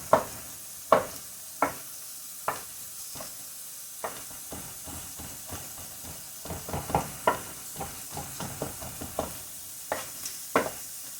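Rosemary and onion cook in a skillet: a soft sizzle runs beneath repeated sharp scraping and stirring strokes of a utensil against the pan, coming in uneven bursts.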